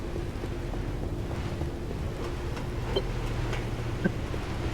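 Steady wind rushing in Pacific Drive, a constant low whooshing drone with faint scattered ticks, no talk.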